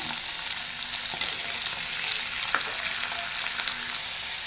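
A tadka of oil with cashews and almonds sizzles steadily in a pan, a dense continuous crackle with a few light clicks of stirring, close and moderately loud.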